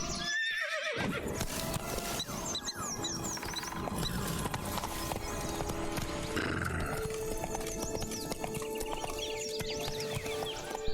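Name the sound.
horse Roach galloping in video game The Witcher 3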